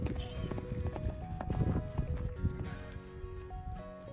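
Hooves of a 2010 Friesian Thoroughbred cross gelding clip-clop in a steady rhythm over a bed of loud music, with a voice faintly mixed in.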